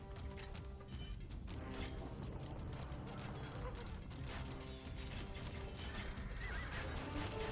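An Age of Empires II battle with horses neighing over a dense, steady wash of clashing units, hooves and mechanical clatter, loud and continuous throughout.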